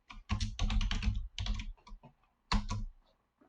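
Several quick bursts of keystrokes on a computer keyboard, close and crisp, with short pauses between clusters of typing.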